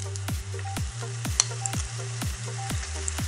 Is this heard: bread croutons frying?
yes